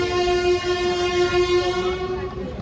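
A passenger train horn blares in one long, loud, steady blast close by as the train leaves Manmad Junction, then tapers off at the end.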